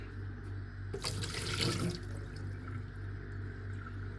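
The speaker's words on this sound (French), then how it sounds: "On va rincer." Water running from a tap for rinsing, a steady low wash over a hum, with a louder splashing surge for about a second as something passes under the stream.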